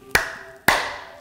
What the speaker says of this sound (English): We are going to clap three times.